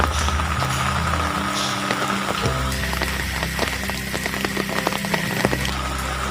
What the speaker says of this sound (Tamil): இப்போ நல்லா மழை பெய்யுது.